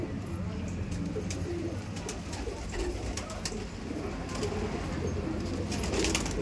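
Kalsire highflyer pigeons cooing in a loft: soft, low, repeated coos under a busy background of fluttering and rustling, with a few faint chirps and clinks, the birds close but not loud.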